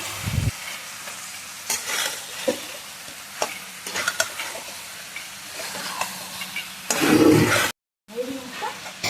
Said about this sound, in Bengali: এই এঁচড় চিংড়িকে সুন্দরভাবে দশ মিনিট ধরে কষিয়ে নিতে হবে আস্তে আস্তে